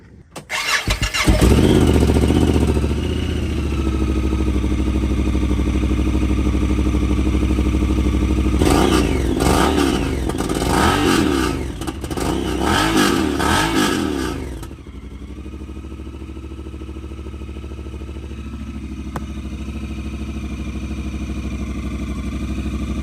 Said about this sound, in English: we'll crank it up and rev it a few times, see how much this motor jumps